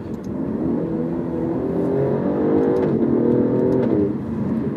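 An Alfa Romeo Giulia sports sedan's engine revs steadily in manual mode during quick shifts, a loud continuous droning roar rising and falling with no talk.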